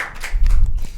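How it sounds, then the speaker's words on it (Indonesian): Brief clapping from a small group at a school student talk session, a short burst of hand claps lasting about a second, close and fairly loud. "Tepuk tangan."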